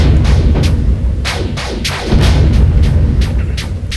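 Rapid ship weapon shots hammering capital ship turrets in Space Fighter VR, a quick rhythmic string of punchy booms over a constant heavy rumble, loud and close.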